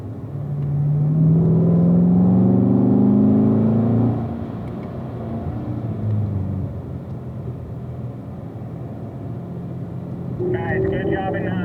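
A Chevrolet Corvette on a race track at a driving school pulls hard with rising engine revs, then eases into a steadier rumble, while an instructor talks over the car.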